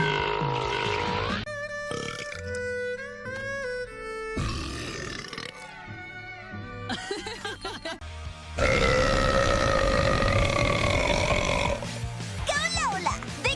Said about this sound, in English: Go Lola! Biggest burp!